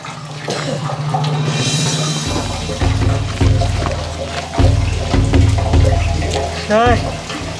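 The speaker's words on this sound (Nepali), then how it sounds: "ए पानी भरियो भरे" Water pours to fill a container, a running splashy stream under a soft voice and occasional background clatter.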